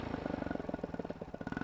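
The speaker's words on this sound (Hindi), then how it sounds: "फाइनली 10 मिनट की स्ट्रगल के बाद हमारी बाइक हमारे होममेड पेट्रोल से चलने लगी है।" A motorcycle engine idles on homemade petrol made from plastic, with a steady, rapid, loud thumping exhaust pulse that stays close and continuous.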